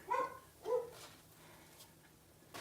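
Two faint household dogs bark in quick succession, short sharp yaps from a distance in a quiet kitchen, followed by silence with a low hum.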